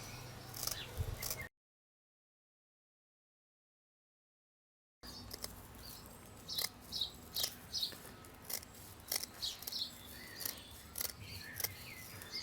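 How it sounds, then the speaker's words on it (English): A series of crisp, close snips as scissors cut through brush bristles, a few at first, then a gap of silence, then a steady run of regular cuts. "I want to get this at about half the length of the bristles. Let's cut that down there."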